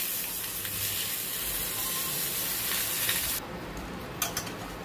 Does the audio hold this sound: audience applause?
no